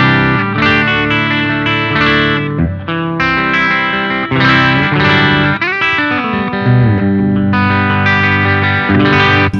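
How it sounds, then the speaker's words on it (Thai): An electric guitar plays through a NUX Queen of Tone dual overdrive set as a clean boost. Loud, sustained chords and single notes ring out with light grit and a roomy tail, and no one talks. "เจ้าฮอสแมนเนี่ยเปิดเกณฑ์น้อยๆความดังไม่ลดลงนะเป็นเหมือนคลีนเลยเป็นคลีนบูท"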